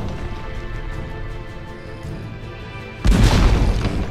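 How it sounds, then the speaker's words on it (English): Cannon blast from a Dreadnought-class unit in the fantasy strategy game Age of Wonders 3: a single loud, broadband boom erupts after about three seconds of quieter game ambience and rings out over the rest of the clip. "Blast them a couple of times with the cannon."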